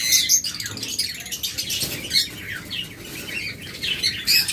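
Pet lovebirds, cockatiels and budgerigars on a bird farm chirp and squawk in a dense, continuous chorus of overlapping high calls, with occasional wing flutters.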